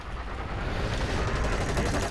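Rapid gunfire in the video game Hyper Scape, a dense continuous burst of shots at close range, loud and unbroken for a couple of seconds.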